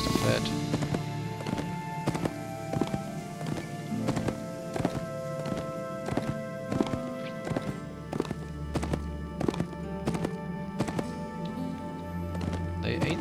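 Horse hooves clip-clop in a steady rhythm while riding in the Fallen Earth video game, repeated sharp taps over a busy game soundtrack with someone talking throughout.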